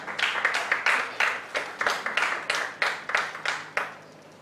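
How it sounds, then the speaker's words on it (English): An audience applauds at a business growth series event, with steady, evenly paced hand claps that keep a regular rhythm and stay fairly loud throughout. "please a round of applause for that."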